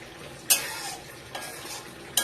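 Broccoli in tomato sauce simmers in a pan with a soft, steady bubbling, broken by three sharp scrapes of a utensil stirring against the pan.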